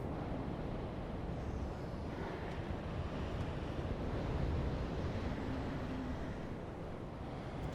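Wind roars steadily along a castle wall in Dark Souls 3, a dense, constant rushing gust that holds at full strength throughout with no voices over it.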